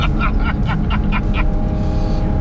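A Porsche 718 Cayman GT4 RS launches hard and rips through quick gear shifts, its engine note climbing and dropping in rapid repeated bursts, loud and close.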